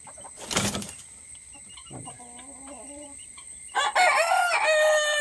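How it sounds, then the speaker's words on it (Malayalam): A native rooster crows nearby, followed by a second louder crow, with scattered clucks and farmyard noise in between. "നാടൻ പൂവൻ കോഴി"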